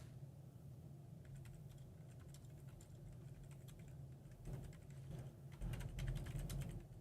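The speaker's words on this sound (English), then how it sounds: "Typing to them." Rapid, steady clicking of a computer keyboard during a police traffic Q&A livestream, close and continuous over a low background hum, growing a little louder and denser toward the end.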